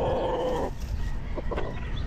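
Chickens and chicks at a gamefowl breeding farm, a short clucking call up front followed by faint peeps and clucks against background noise.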